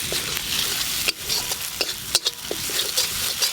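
Mustard and poppy seed paste fries with ground spices in a pan, a close continuous sizzle punctuated by brisk stirring scrapes and several sharp clanks of a spoon against the pan.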